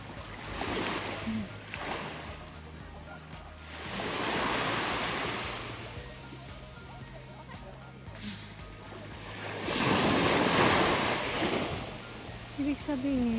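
Ocean waves at Motubo beach in Okinawa surge and wash ashore in broad swells, two big crests rising and fading, with wind noise and occasional talk mixed in.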